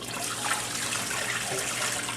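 Tap water running and splashing steadily over cut raw potatoes in a bowl to rinse off starch, a close, continuous broadband wash with no talk.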